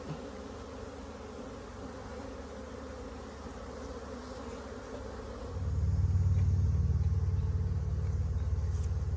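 Honeybees hum around an open queenless hive, a soft continuous drone that swells louder and lower partway through, close by.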